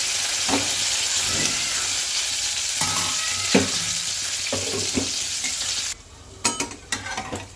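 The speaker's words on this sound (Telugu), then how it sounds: "ఇప్పుడు మూత పెట్టుకుని ఉడికించుకుందాము ఒక 2 minutes." Idli batter uttapam cooks in a covered pan, giving a continuous close sizzle and hiss with a few soft knocks. The sizzle drops noticeably near the end, followed by some brief clinks.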